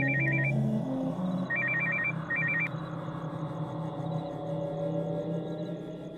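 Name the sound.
phone ringing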